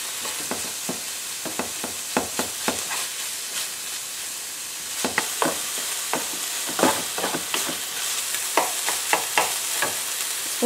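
A minced meat mixture sizzles in a pan, a steady frying hiss broken by repeated sharp scrapes and taps of a spoon stirring it, close and loud.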